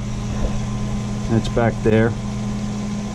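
A boat's air conditioning pump runs with a steady mechanical hum and drone throughout, joined by a brief spoken phrase from a nearby voice partway through.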